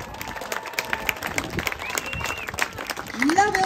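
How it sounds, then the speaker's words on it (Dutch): An audience at an award ceremony for a four-in-hand driving event applauds the Belgian team, with scattered clapping under ongoing talk and a louder swell toward the end. "Mag ik een daverend applaus voor de Belgen?"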